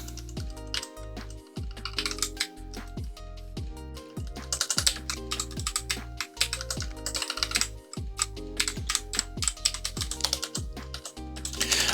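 A new computer keyboard typed on steadily, dense quick clacking keystrokes with occasional heavier presses, close and moderately loud, no speech.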